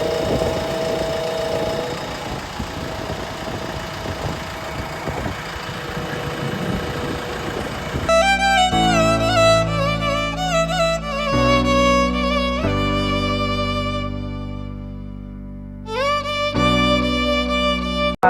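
A tractor engine rumbles steadily at idle for several seconds, then gives way to loud electronic tones.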